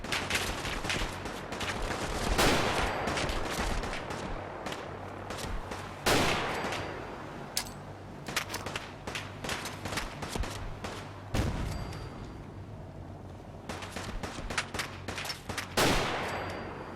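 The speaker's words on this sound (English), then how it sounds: "Commonwealth Warfare, Explosions, and Commonwealth Warfare Gun Sounds and Bullet Cracks" Gunfire and explosions in Fallout 4 with the Commonwealth Warfare mod: rapid bursts of rifle and machine-gun fire with bullet cracks, punctuated by loud booming blasts every few seconds, dense and close throughout with no talk.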